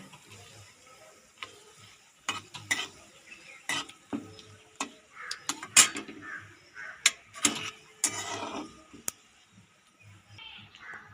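Bay leaf and dried chilli frying in mustard oil, a soft sizzle under scattered clicks and taps from a utensil in the pan, fairly quiet and intermittent, with a few faint spoken sounds.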